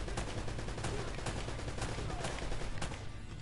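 Gunshots in Uncharted snap out in a steady run of sharp, fairly quiet reports over a constant noisy game backdrop, with no talking during the shots.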